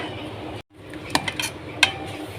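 Metal utensils clink against a pot and plate as sago sweets are moved onto a plate, a few sharp separate clinks after a brief silence over a soft background.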